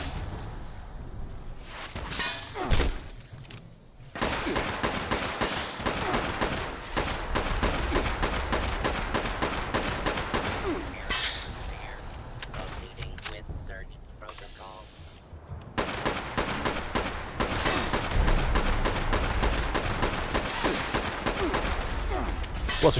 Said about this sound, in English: Who else is shooting at us?